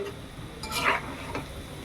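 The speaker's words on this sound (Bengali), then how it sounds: "সবাই চিকেন পকোড়া ভাজতে জানেন, আমি আমার মতো ভাজছি" Large pieces of chicken pakora fry in oil over medium heat, a soft low sizzle with one brief stirring scrape in the middle, near and fairly quiet, no voices.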